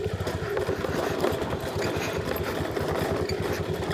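A vehicle engine hums steadily and close while descending a steep, misty mountain road toward a hill village on the edge of the Western Ghats, a continuous low drone with a faint rattle and no talk.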